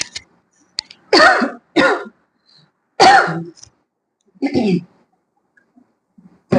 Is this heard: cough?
yes